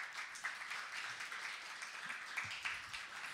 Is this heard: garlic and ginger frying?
no